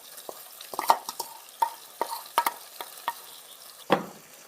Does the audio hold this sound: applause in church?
no